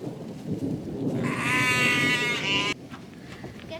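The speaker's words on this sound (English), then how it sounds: "They actually have like sheep." A single sheep bleats on a working coffee farm at Hacienda Juanita in Maricao, Puerto Rico: one loud, wavering cry lasting about a second and a half, near and clear above low outdoor background noise.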